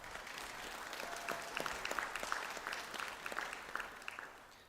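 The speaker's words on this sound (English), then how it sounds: "A round of applause, please, for Shannon." Audience applause at a university conferring ceremony for a graduate: a steady, moderately distant wash of many hands clapping that swells briefly and then tapers off at the end.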